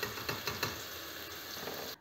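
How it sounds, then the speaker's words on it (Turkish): Eggplant-and-potato dish vegetables frying in oil in a home kitchen, a steady broadband sizzle with a few crackling pops, close and moderately loud, no talking, cutting off abruptly at the end. "Bu yüzden önce sebzeleri kızartmayı tercih ediyorum."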